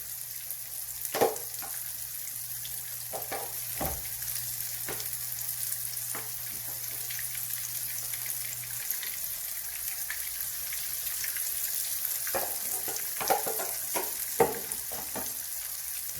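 Fish fillets coated in cornflakes and almonds fry in a pan, giving a steady, close sizzle with occasional sharper crackles and pops and no talking.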